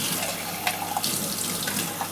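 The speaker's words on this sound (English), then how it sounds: "use quite warm running water just to rinse" Warm water runs steadily from a sink tap to rinse out a spray gun pot, a continuous close hiss and splash with small gurgling spikes.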